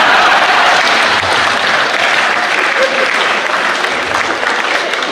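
An audience at a Hindi comic poetry gathering breaks into loud, sustained clapping that continues strongly for about five seconds, dense and close, with no distinct voices.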